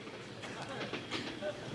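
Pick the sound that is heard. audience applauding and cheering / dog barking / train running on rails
train running on rails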